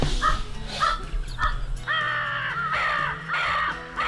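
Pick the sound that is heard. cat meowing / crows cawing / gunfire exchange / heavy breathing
crows cawing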